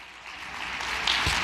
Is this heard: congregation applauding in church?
yes